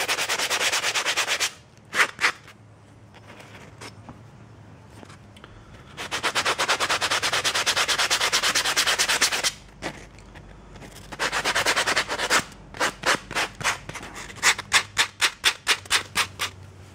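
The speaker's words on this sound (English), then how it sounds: "Sanding." A Bowie knife is sanded by hand in bursts of long rasping strokes, some sustained for several seconds and others short and rapid, with quiet pauses between the bursts.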